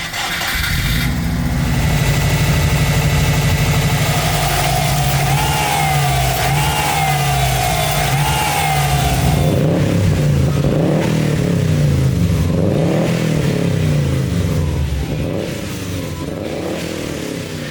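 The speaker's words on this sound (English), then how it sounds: "It's a very grown-up exhaust." A Subaru Forester GT with an aftermarket exhaust starts up and idles loudly nearby, rising to a steady raised-rpm drone that then settles lower into a throbbing idle, engine alone with no speech.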